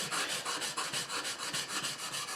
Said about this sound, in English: I'm just trying to put a better edge on it and taper it down for sharpening